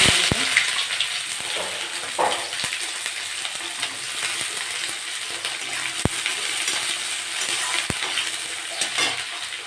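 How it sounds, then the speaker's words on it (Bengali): Onions fry in hot oil with whole cardamom, cloves, cinnamon and a bay leaf, making a steady close sizzle broken by a few sharp clinks of a utensil against the pan. "পেঁয়াজটা ভাজা ভাজা হয়ে গেছে"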